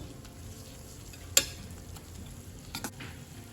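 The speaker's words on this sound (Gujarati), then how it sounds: "હવે આપણે આ બધા મસાલાને 1 થી 2 મિનિટ માટે સાંતળી લઈશું" Spice masala sautéing in a pan for bottle gourd pav bhaji, a faint soft sizzle with a sharp spoon clink and a couple of light stirring taps, heard close with no talk.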